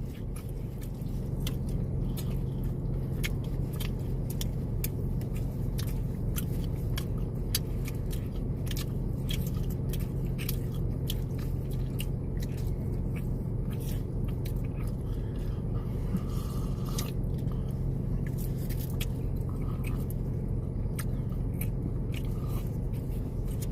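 Someone bites and chews a hot dog up close, with a steady stream of small crunchy bites and mouth noises over a constant low rumbling hum, and no voices.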